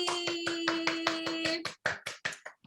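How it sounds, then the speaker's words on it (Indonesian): An audience claps in distinct, fairly rhythmic strokes, about a dozen of them, with a steady tone humming underneath the first half before the claps thin out and fade unevenly. "Wow, tepuk tangan sekali lagi."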